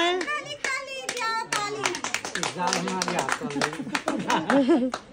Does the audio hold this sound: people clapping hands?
yes